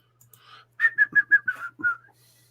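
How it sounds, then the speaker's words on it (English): Someone whistles a short tune close to the microphone: about six clear, bright notes in quick succession, then a brief pause and one final note, with quiet room background. "I don't know how my whistling comes across on the microphone."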